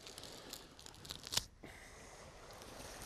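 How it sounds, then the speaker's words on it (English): A handful of grass is crumpled and torn by hand, giving faint, close crackling and ripping rustles in short bursts, with one sharper crunch before a quieter stretch. "We're gonna crumple that up"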